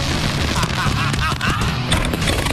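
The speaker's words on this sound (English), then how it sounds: "One explosion at a time." Pyrotechnic explosions go off in a dense, continuous barrage of loud booms and crackling blasts, heavy and sustained throughout, with a busy, roaring background.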